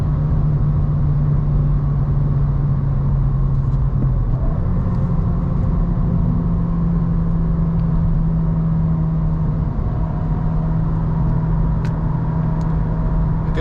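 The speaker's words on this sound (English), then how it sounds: "I get a little bit of road noise with the tires." Steady road and tire noise rumbles from inside a moving car, a constant low drone with a slight shift in engine pitch partway through.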